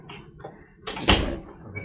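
A balcony door in an accessible cabin aboard the Icon of the Seas cruise ship gives a brief sliding thump and rattle as it is opened, close by amid quiet room sounds.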